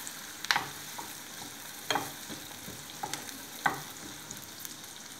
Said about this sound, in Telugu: ఉల్లిపాయలు వేగిపోయినాయి.